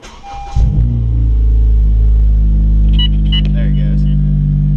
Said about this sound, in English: Maybe I have to actually turn the car on.